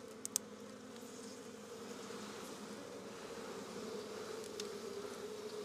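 Chinese honeybees buzz inside a wooden hive box, a faint steady drone with a couple of soft clicks near the start.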